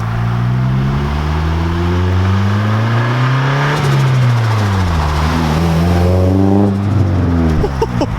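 A Nissan 240SX engine revs up and down repeatedly, not very high, pitch climbing and falling in sweeping waves, loud and close, with no talking.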